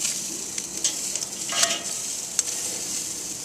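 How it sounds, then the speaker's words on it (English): A thick cowboy steak sears on a hot grill, giving a steady close sizzle with a few sharper pops and crackles scattered through. "we're going to sear it on the other side"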